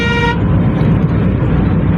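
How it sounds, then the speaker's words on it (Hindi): A car horn honks loudly for a moment at the start, then the engine and road noise of a fast-moving car carry on steadily through a night drive on an empty road between Jaitpur Khadda Colony and Noida. "ये देखो भाई 71 तो मेरी गाड़ी भग रही है इस टाइम"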